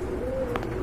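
Fancy pigeons with yellow colouring at a pigeon sale give a brief, low, steady coo, close and moderately quiet.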